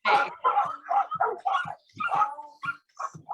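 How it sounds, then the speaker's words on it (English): Several dogs bark in quick bursts of yaps and higher whimpering yips, close and loud, in a tight irregular rhythm with short gaps between barks. "The doggies are still barking."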